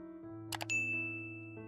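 A bright notification bell dings once over a soft sustained musical tone, its clear ring lingering and fading slowly.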